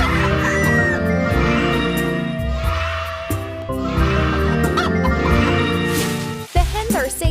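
Cartoon hens cluck repeatedly in a children's farm video game, a busy, close flurry of clucks and a crow layered over bouncy background music that runs throughout.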